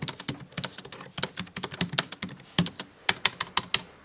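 A sentence is typed on a Cherry DW 9500 Slim keyboard, quick irregular key clicks with a few louder strokes, close up and alone.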